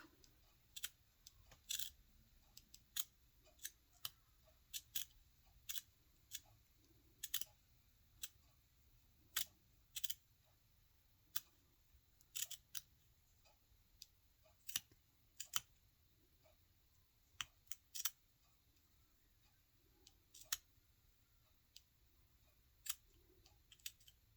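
Scissors snipping away excess material on a lacy crocheted Peter Rabbit spine: sharp, isolated close clicks and snips repeating irregularly every second or so over near silence, with no talk.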